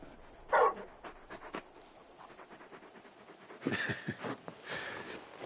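Torgal, a very big dog companion in the game Final Fantasy XVI, pants in quick rhythmic huffs close by, with a couple of louder breathy bursts standing out over a quiet background.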